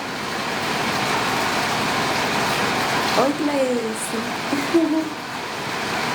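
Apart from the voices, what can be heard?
swimming pool water circulation running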